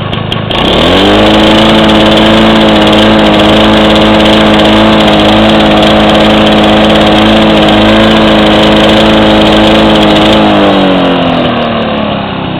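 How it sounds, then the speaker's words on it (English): Close, loud idle of a Duraforce lawn mower engine after its surging fault was fixed: the engine revs up at the start, then holds a steady, even drone for the whole stretch before easing slightly near the end. "This idle is what I like the most."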